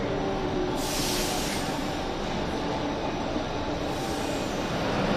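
A Buenos Aires Subte Line E metro train runs steadily, its broad rumble and rail roar filling the space with brief brighter hiss and squeal peaks, with no talk.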